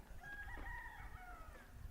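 A rooster crows once in a small Appalachian town in St. Charles, Virginia, a drawn-out rising and falling call at moderate distance, with faint background noise and no talking.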